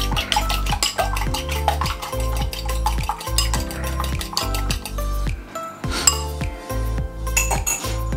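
An egg whisked briskly in a bowl, giving a fast, rhythmic clinking and tapping of utensil against the bowl that repeats close and loud, with a short pause midway.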